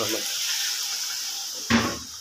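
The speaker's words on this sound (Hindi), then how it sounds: "अब हम डालेंगे पानी।" Water poured into a pan of frying potatoes with cumin, giving a short burst of hissing sizzle near the end after faint, low background kitchen noise.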